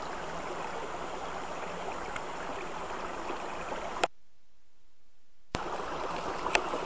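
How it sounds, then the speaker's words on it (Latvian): A small river flows through the Latvian countryside with a steady, even rushing murmur. The sound drops out completely for about a second and a half in the middle, then resumes unchanged. No one speaks. "Ieklausies upes, sadzirdi tās dziesmu un dziedi tai līdzi."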